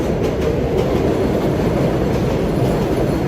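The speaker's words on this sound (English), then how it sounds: "there's the L train above us" An elevated L subway train in New York City rumbles by overhead, a loud, steady roar with clattering wheels that fills the whole stretch with no voices over it.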